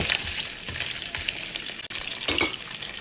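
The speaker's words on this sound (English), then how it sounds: "I have 1 tablespoon of oil in the pot and it's on high heat again. I'm gonna add the meat," Beef sautéing in a tablespoon of hot oil in a pot over high heat, a close, bright crackling sizzle with brief stirring bursts, no voices.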